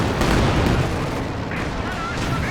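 SU-85 tank destroyer firing on a Tiger tank in Company of Heroes 2, heavy booming cannon and battle rumble filling a dense, loud mix, with a sharper report and whistling sounds near the end.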